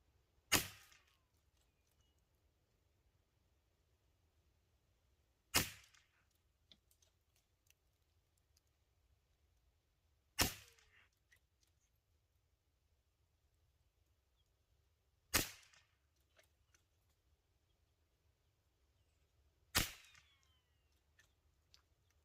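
.22LR rifle shots with Eley Match ammunition, five single sharp cracks evenly spaced about five seconds apart, each decaying quickly into near silence over a faint low background hum.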